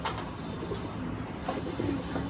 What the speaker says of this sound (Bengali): কবুতর একদম হাতের মধ্যেই